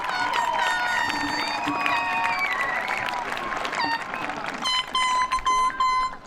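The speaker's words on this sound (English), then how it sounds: "Let's give them a round of applause." Applause at a high school commencement for the student speakers rings out as a broad wash of clapping in the hall, mixed with electronic tones and with a voice speaking over it.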